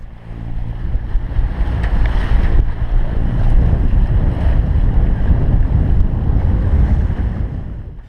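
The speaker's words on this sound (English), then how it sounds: "the wind and waves started to increase" Strong wind and breaking waves surround a sailboat at sea in the Caribbean near St. Kitts, with steady loud wind rush buffeting the microphone and repeated wave splashes over nearly eight seconds, no voices.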